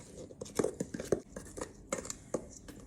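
Flour and spices being stirred together in a bowl for pumpkin bread: quiet, close clinks and taps of a utensil against the bowl in an irregular rhythm, with soft scraping between.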